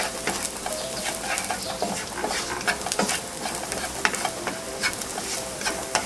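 Chopped garlic frying in a pan, a dense, steady sizzle with crackling pops and occasional stirring scrapes, close and continuous throughout.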